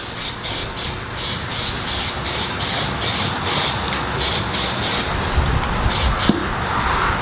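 Plasti Dip sprayed in light coats onto Mazda Miata mirrors from an aerosol can, heard as a steady, close hiss broken by short regular bursts, with no talk.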